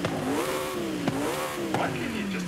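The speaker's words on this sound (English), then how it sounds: "There is a noise change which I wanna hear too with the exhaust." A car engine revs and drops in pitch in Forza Horizon 5, rising and falling a few times in a steady exhaust drone.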